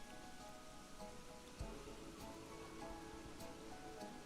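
Steady rain falling in the Planet Coaster 2 theme park game, a dense, even hiss of drops spread across the whole stretch with no talk.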